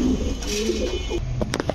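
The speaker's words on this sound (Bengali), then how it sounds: "আমি আসলে এগুলো ডায়মন্ড বলে ডাকি, আমার ভালো লাগে আসলে কবুতরগুলা" Diamond pigeons coo softly nearby in low, throaty murmurs, followed by a few short clicks and rustles.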